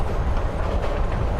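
Train riding along in the video game Life Is Strange: Before the Storm, a steady low rumble with rhythmic clacking of wheels on track.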